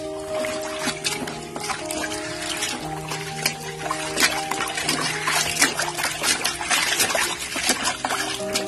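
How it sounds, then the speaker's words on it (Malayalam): Cloth being dipped and rinsed in plain cool water after dyeing, a continuous trickling and sloshing of water at close range with a faint steady hum underneath. "നമ്മൾ ഈ തുണി എടുത്തിട്ട് സാധാ പച്ച വെള്ളത്തിൽ ഒന്ന് മുക്കി"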